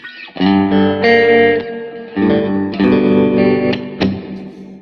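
Electric guitar chords through a VOX amp's tremolo and reverb effects, ringing out with a pulsing tremolo wobble and a reverb tail, played alone in a few strummed phrases.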